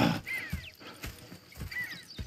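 Horses in a video game nearby with clopping hooves at a slow walking pace and a faint snort, moderately quiet.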